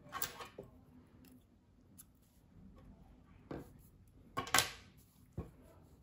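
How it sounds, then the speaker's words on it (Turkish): Scissors snip knitting yarn at the end of a row: a few sharp, close cutting clicks spread over several seconds against a quiet room background. "İpliği kesiyorum."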